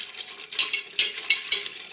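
Utensil stirring orange sauce with shallots in a pan for chicken, soft scraping and sizzling with a few sharper clicks against the pan, close and alone.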